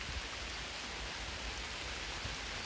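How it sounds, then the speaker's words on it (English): Rain pouring onto a river, a dense, faint, steady hiss of drops on the water surface throughout, with no talking. "all the rain in the river."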